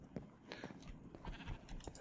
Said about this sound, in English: Let's move away from these sheep